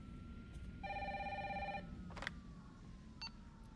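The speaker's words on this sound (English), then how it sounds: "Who is calling on Jill's landline phone, in case you needed a reminder that this takes place in the 90s?" A landline telephone rings once in the 1990s-set video game Resident Evil 3, a bright trilling electronic ring standing out over a quiet ambient drone, followed by a couple of soft clicks.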